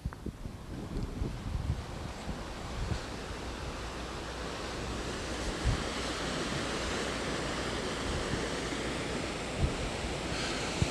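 Water pours through the measuring flume at the Chautauqua Lake outflow, a constant dense rush mixed with wind buffeting on the microphone and a few low thumps, with no speech.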